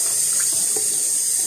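Water runs steadily from a tap for rinsing during a shave, making a loud, even rushing hiss with no voices.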